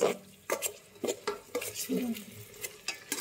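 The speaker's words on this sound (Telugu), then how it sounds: "బాగా అల్లం పేస్ట్ ఆనియన్స్కి, మసాలాకి అన్నిటికీ పట్టినట్లు బాగా వేయించుకుందాం." Onions, green chillies and ginger paste are stirred in a pan while cooking biryani, with a spoon scraping and clinking against the metal in a rhythm of repeated strokes and light sizzling underneath.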